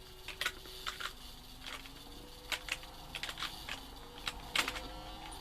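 Typing on a ZX Spectrum computer keyboard: quiet, irregular key clicks come in short bursts over faint tones from a homebrew game.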